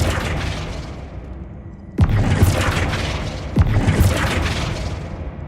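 Flipendo spell cast in the video game Hogwarts Legacy, heard as two sharp, loud booming impacts a second and a half apart over a steady rumbling game background.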